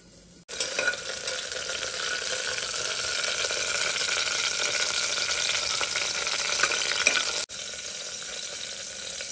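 Ingredients sizzle in hot oil inside a pressure cooker, a steady, close frying hiss that starts abruptly and cuts off after about seven seconds, with no talking.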